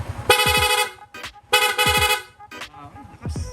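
A PIAA horn fitted to a Sniper 155 motorcycle blares in two loud, close honks of about half a second each, with a shorter toot between them and a short toot near the end.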